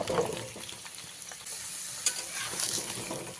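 Pumpkin pieces tipped into a pan of frying potatoes for a Bengali vegetarian curry with five-spice, with a steady sizzle and repeated scraping stirs and clatters throughout, close and fairly loud.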